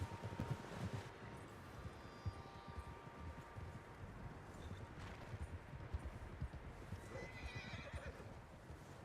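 Several horses in Red Dead Redemption 2 whinny and neigh near an outdoor camp, with a steady patter of hooves and rustling underneath, fairly close and continuous with no talking.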